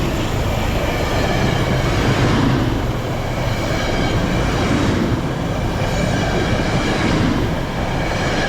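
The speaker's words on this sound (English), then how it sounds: "With just enough light to film at the end of the platform, Metro-North train 1889 is seen arriving at the Merritt 7 station" Metro-North train 1889 rolls into Merritt 7 station with a loud, steady rumble and rail noise, a constant close roar with faint wheel squeal over the full length.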